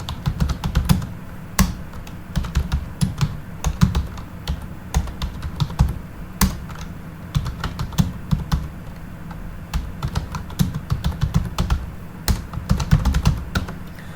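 Fast, steady typing on a computer keyboard as an address is entered into accounting software, close and clear clattering keystrokes in irregular bursts with no talking over them.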